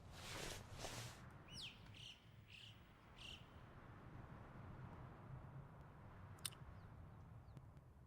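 Bird chirping in theHunter Classic hunting game, a few short faint calls scattered through a quiet outdoor ambience with soft insect-like background noise.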